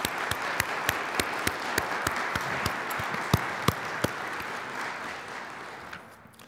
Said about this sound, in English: join me in expressing our thanks to all of these generous donors and all the others who have contributed to the Student Activities and Events Centre with a round of applause too